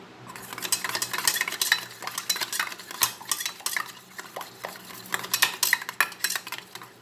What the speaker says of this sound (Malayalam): പതപ്പിച്ചെടുക്കണം.